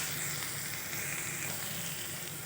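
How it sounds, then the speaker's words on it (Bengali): Chopped onion and green chili frying in a little oil in a pan, a steady dense sizzle that stays close and even throughout, with no voices. "সামান্য একটু তেলেই পেঁয়াজ আর লঙ্কা কুচিটা দিয়ে একটু ভেজে নেব"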